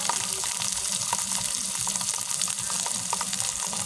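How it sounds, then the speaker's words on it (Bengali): Mushroom noodle masala frying in a pan with ginger and garlic paste, a steady close sizzle with crackling and spattering that runs evenly throughout. "পরিমাণ মতো হলুদ দিয়ে হালকা ভেজে নেব"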